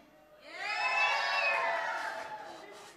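A church congregation of children and adults, including mums, screams together for the dads at a Sunday morning service in Emmanuel, one loud sustained crowd shout swelling up and holding before fading.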